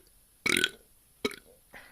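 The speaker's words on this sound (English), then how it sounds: "There you go, I've burped" A loud, hearty burp right after drinking Moosehead beer, followed by a shorter second burp and a faint third, separated by brief pauses.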